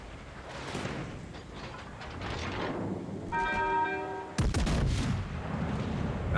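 Heavy warship main guns firing high-explosive shells in World of Warships: Legends, a couple of booming salvos with rumbling tails, the second loud and close, with a brief tonal game alert between them and no talk.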